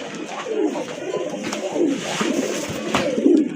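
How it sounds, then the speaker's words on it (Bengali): Large pigeons at a breeder's sale coo in low, repeated burbling calls close by, layered over a steady murmur of other birds. "আরেক জোড়া কবুতর দেখেন বিগ সাইজের কবুতর"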